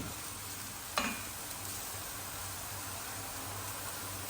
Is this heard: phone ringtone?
no